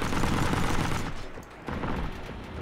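Tank cannon fire and gunfire in the Heroes and Generals online war game, a dense, loud barrage of shots and booms running throughout with a brief dip midway.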